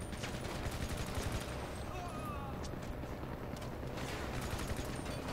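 Rapid gunfire rattles through a gang attack in the video game GTA, a dense steady burst of shots under noisy game sound, with no speech.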